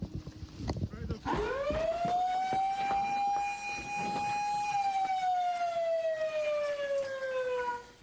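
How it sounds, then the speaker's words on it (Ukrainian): A fire station alarm siren rises steeply, then holds a loud, sustained wailing tone for several seconds before slowly sliding down in pitch, close and dominant with faint background activity. "Після сигналу тривоги пожежники мають три хвилини, щоб вдягнутись."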